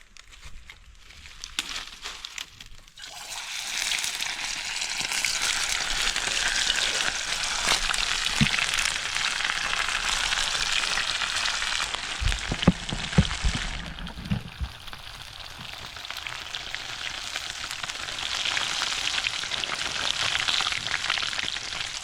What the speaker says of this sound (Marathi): मस्त आता आपण फ्राय करणार डीप मस्त तेल पण तापला